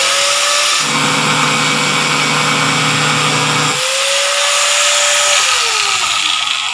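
A power tool cuts through bamboo outdoors, its loud steady motor whine dropping in pitch as the blade bites in, then rising again when it frees, running continuously close up with no talk.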